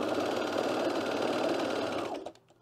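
A domestic sewing machine motor runs steadily and close by while a knit cardigan is being sewn, giving a fast, even whir that stops abruptly near the end and is followed by a few faint clicks.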